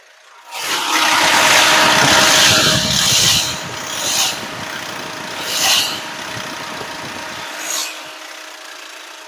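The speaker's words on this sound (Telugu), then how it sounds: "ఇంజన్ వచ్చేసి స్టార్టింగ్ అవుతుంది ఇప్పుడు." A Hyundai Creta SX automatic with an accident history, its engine starting with a loud surge that settles into a steady idle with a few revving swells, close by.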